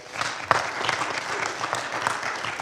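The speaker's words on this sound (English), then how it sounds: "So give yourselves a round of applause." An audience at a candidate forum gives a warm round of applause, dense steady clapping from many hands filling the room, moderately loud and close throughout.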